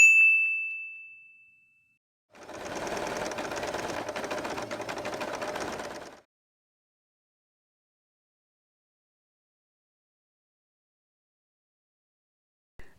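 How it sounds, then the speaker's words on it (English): A sewing machine stitches around a piece of scrap fabric in one steady burst of about four seconds, close and clear, after a fading ding and before silence. "Get a larger piece of fabric, then sew all around,"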